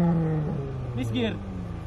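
A car engine revs up sharply on a missed gear shift during a street run between an EK and a Ralliart, rising and falling over about a second, with people talking loudly over it.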